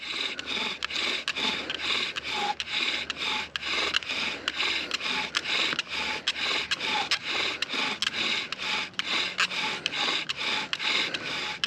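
A bow drill strung with a bootlace drives a spindle against a wooden fireboard in a fast, regular back-and-forth rasping rhythm, each stroke a distinct scraping burst, close and alone.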